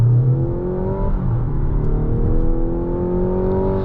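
A 2025 Mazda CX-70 PHEV Premium Plus pulls hard through second gear in boost mode, its engine note climbing in a smooth, loud rising drone heard from inside the cabin.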